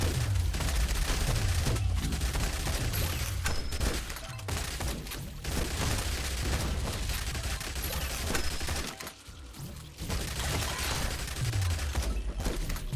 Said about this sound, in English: Let's go with the shotgun for now.